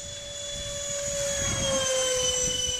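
An A-10 jet's engine roars at about three-quarter throttle during a test flight, a steady loud whine that swells slightly, with no voices.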